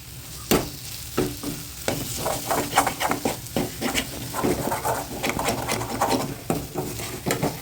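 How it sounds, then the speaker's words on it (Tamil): A metal ladle scrapes and clatters against a pan while stirring leftover idli podimas, with repeated irregular scraping strokes and light sizzling, close and fairly loud, no talk. "கரண்டி சத்தம் கேட்குதுன்னு எதுவும் நினைக்காதீங்க"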